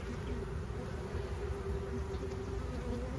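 Steady, dense buzzing of many bees around an open hive, close and continuous, with a low hum running underneath throughout.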